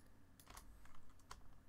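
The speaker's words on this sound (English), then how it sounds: "I guess I gotta start typing so I can get it to autocorrect to it." Soft keystrokes on a computer keyboard, a handful of quick irregular taps, faint and close, with no talking.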